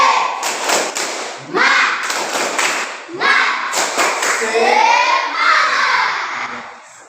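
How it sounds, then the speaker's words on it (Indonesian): A school class stands and performs the rhythmic 'tepuk semangat' spirit clap, loud close bursts of patterned clapping and thumps in repeated phrases, with children's voices chanting and shouting along. "Ayo tepuk semangat."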